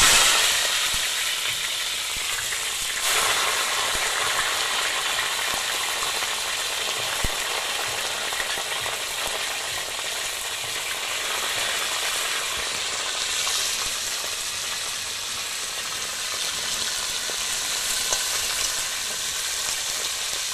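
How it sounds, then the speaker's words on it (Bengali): Lemon-marinated chicken pieces fry in hot oil with a loud, continuous, close sizzle and crackle that holds steady throughout, with no talking. "এবারে আমি চিকেনটা ভেজে নেব।"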